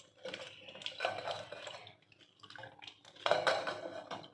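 Soaked tamarind being squeezed and strained in a bowl for tamarind chutney, with wet squishing, dripping liquid and a few clinks of utensil against the dish in two bursts of activity, close and moderately quiet.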